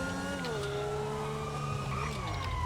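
Ambulance siren in the GTA 5 Online video game, a loud, continuous wailing tone that slides up and down over steady traffic noise.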